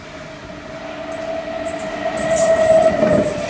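An 8-car Sydney Trains V set passes a platform with a steady rumble that grows louder as it nears, with a sustained squeal from the wheels and no talk.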